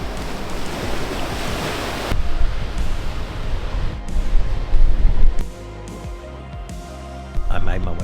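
Waves wash onto a very small beach in Australia, a steady loud roar of surf mixed with gusty wind buffeting the microphone, easing to a quieter wash near the end while someone talks.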